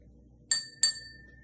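Two clear, ringing taps on a water-filled drinking glass tuned as a musical water glass, the first at about half a second and the second a moment later, each leaving a sustained bell-like tone that fades slowly.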